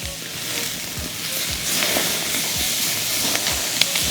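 Skirt steak flipped on a mesquite grill sizzles in a close, steady crackling hiss with small pops, heard alone without talking.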